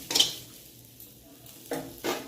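Spice masala being stirred in a pan, a few distinct metallic scrapes and clinks of a spoon against the pan with a faint sizzle between them, no talk.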